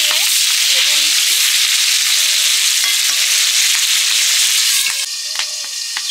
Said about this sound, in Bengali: পটলগুলো নুন হলুদ মাখিয়ে ভেজে নিচ্ছি।